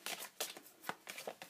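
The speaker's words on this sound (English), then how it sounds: "So I'm going to shuffle them." Tarot cards being shuffled by hand: several quick papery riffles and slaps in irregular bursts, close and fairly quiet, with no talking.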